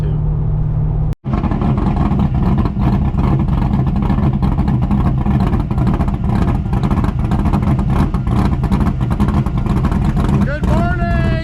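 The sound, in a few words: old Chevrolet Corvette driving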